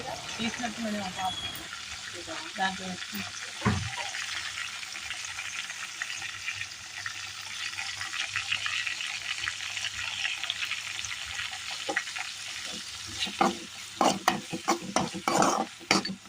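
Food sizzles and crackles in a pan while a utensil scrapes and stirs, before Yippee noodles are added, with clinks and louder scraping bursts toward the end.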